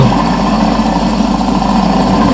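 A loud, steady helicopter engine in Call of Duty 4: Modern Warfare drones continuously with a dense low rumble and whine, no voices over it.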